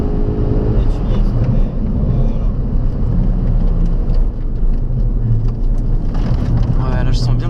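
A Ford Focus RS on a race circuit, its engine droning loud and steady from inside the cabin, with a low rumble and shifting tone under the occupants' ongoing conversation.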